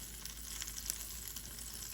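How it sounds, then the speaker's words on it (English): Steady soft sizzling of vegetables frying in a pan for a cheese quesadilla, a constant hiss with occasional small pops, no voices. "This bad boy is already sizzling."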